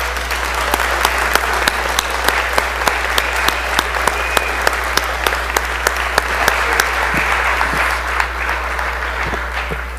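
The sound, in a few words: applause for a high school football team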